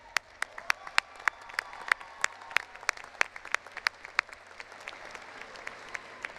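Audience applause at a college commencement ceremony: a mix of distinct close claps over a steady crowd clapping wash, sustained throughout without voices.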